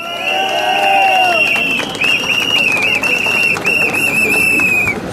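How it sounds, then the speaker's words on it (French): A protest crowd at a rally against France's labour law cheers and claps, while a sharp whistle blows repeatedly over the noise and voices shout in the background. "On peut les applaudir."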